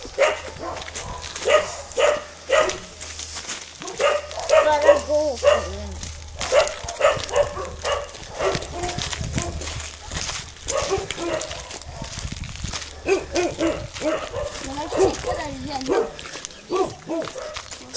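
A dog barks repeatedly during a walk along the main street of Čekmin, sharp bursts coming in clusters close by, mixed with people talking and a clip-clop of hooves.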